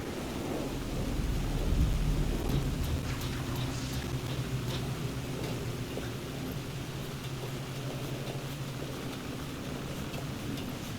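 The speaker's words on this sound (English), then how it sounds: "The rain never stopped falling." Steady rain hisses throughout a stormy scene in the video game Alan Wake 2, while a low roll of thunder swells near the start and then fades into the constant downpour.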